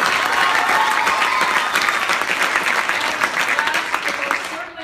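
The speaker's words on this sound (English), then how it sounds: "So let's give them all a big round of applause." An audience at a staged Hansel and Gretel performance bursts into loud, sustained applause, a dense wash of clapping close and full that tapers slightly before cutting off.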